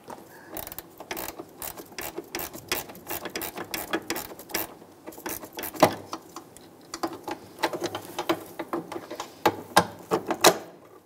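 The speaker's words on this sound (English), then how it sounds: "we'll go up top and remove the rest of it with our gear wrench" Gear wrench ratcheting up top while removing fuel pump parts on a 2011-2019 Ford Explorer 3.5L, a close series of quick irregular clicking bursts with short pauses between strokes, no talk.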